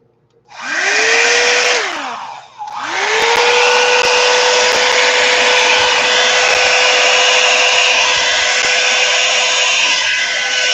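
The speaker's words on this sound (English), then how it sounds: "blow dryer." A blow dryer switches on, briefly dips and restarts, then runs at a loud, steady roar close by for the rest of the stretch, used for acrylic fluid art.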